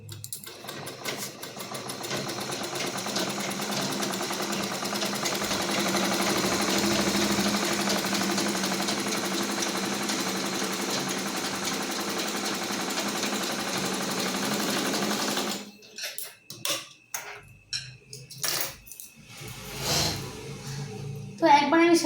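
Domestic sewing machine driven by a foot pedal, running in a steady, continuous mechanical whir for about fifteen seconds before stopping, followed by brief stitching bursts, clicks and handling sounds close to the microphone.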